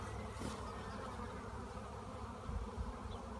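Honey bees hum steadily at the hive entrance in spring as pollen comes in, a dense, continuous buzz with no voices.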